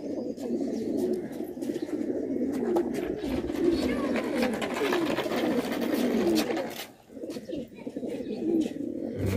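Male pigeons coo steadily and densely in a loft, their overlapping throaty calls forming a continuous nearby chorus with faint chirps, pausing briefly before resuming.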